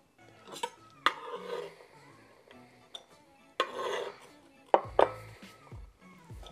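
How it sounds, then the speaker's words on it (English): Jerk chicken taco ingredients get tossed together in a bowl, with sporadic clinks and scrapes of a utensil against the dish, a few sharp knocks among quieter rustling stirs, close and intermittent. "And we're just gonna mix all this together"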